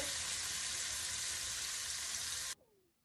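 Puti fish frying in hot oil, a loud dense sizzle that holds steady for about two and a half seconds and then cuts off abruptly, leaving near silence.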